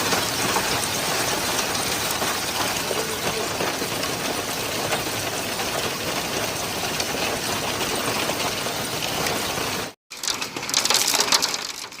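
Hail and heavy rain pound down during a Tokyo hailstorm, a loud, dense, continuous roar that drops out abruptly for a moment before surging back.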